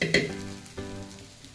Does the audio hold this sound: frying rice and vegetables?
yes